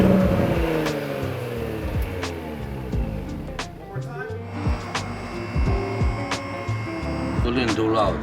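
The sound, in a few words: Audi SQ5 with resonator delete driving into shop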